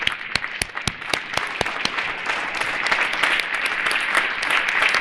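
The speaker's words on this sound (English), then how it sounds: "Dew a big round of applause" A round of applause for Mr. Dew: a few sharp, distinct claps open, then swell into steady, full audience clapping that stays loud to the end.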